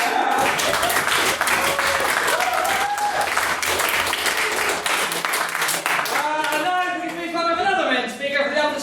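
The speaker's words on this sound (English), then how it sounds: "Can I please get another round of applause for a distinguished maiden speech?" Audience applause follows a maiden speech at a debate, loud dense clapping at first that thins out as voices and cheering rise toward the end.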